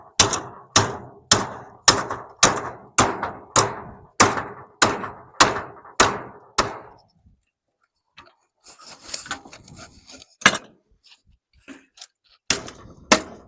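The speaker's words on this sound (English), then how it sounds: "take a hammer. See if I can't knock it on out of there." About a dozen sharp, evenly spaced hammer blows ring out on metal while knocking a part out of a trailer, then a pause with faint shuffling before a few more scattered knocks.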